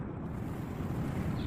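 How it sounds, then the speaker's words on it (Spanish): Steady rush of wind and water by the sea at Puerto Salinas, a continuous broadband roar with a low rumble, fairly close and unbroken, with no voices. "Se oye agua."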